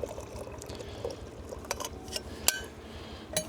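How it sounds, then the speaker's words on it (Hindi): Cold water poured into a cup of hot water at a high-altitude solo campsite on Baralacha La, a short trickling pour with small glassy clinks and taps scattered throughout, close by and moderately quiet. "और उसके साथ में ठंडा पानी मिक्स करके एक लेवल बना के पियेंगे"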